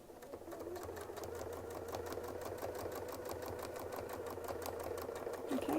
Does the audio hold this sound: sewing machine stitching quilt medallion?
yes